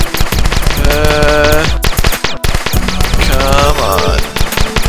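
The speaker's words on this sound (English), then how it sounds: "just gotta shoot fast enough" Rapid repeated gunfire in the video game The Desolate Hope, fast shots rattling over loud game music and electronic tones, with a brief drop-out midway.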